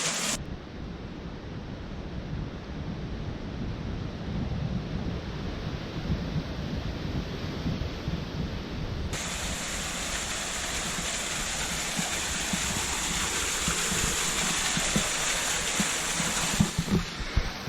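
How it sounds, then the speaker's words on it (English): A small waterfall in the Monteverde cloud forest gives a soft, even hiss of running water. The wash stays constant and moderately loud, brightening a little partway through. "Waterfall number 2."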